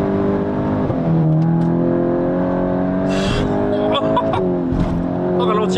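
A Volkswagen Golf 8 GTI Clubsport, tuned past 400 horsepower, accelerates with a loud, steady engine drone that rises through the gears, heard from inside the car while people talk over it.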